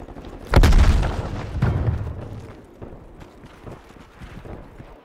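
A grenade detonates in Black Ops Cold War on the Slums map, a loud close boom followed by a second heavy blast and rumbling debris that fades out, with no talk over it.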